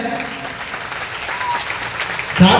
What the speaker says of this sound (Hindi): बहुत बहुत धन्यवाद, जोरदार तालियां हो जाए